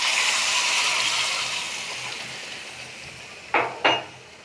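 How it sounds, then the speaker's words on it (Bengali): Hot water poured into a pan of chicken curry sets off a loud, broad hiss that slowly fades. Two short metallic knocks of a spoon against the pan follow near the end. "এখন গরম পানি দিয়ে দেবো, এই যে দেখেন ভাপ উঠতেছে, ধোয়া উঠতেছে গরম পানি দিয়ে।"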